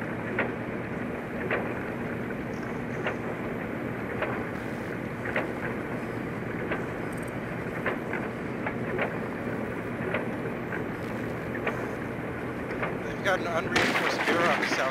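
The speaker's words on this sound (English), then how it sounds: "they're shooting through the unreinforced mirror on the south side" Rapid gunfire punches through an unreinforced mirror aboard a yacht in Rainbow Six Siege, sharp repeated shots ringing over a steady engine-room rumble, with a player talking throughout.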